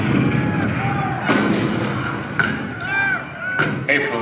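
Booming cannon shots re-creating the April 1861 bombardment of Fort Sumter in a staged theater show, several heavy blasts spaced irregularly, with dramatic music and narration underneath.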